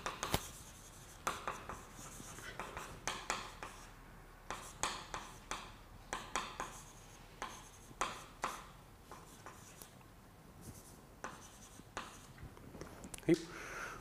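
Chalk writes on a board during a lecture on effective field theory and renormalization group, a quiet series of rhythmic taps and scratches going on steadily, with faint sounds of the room underneath.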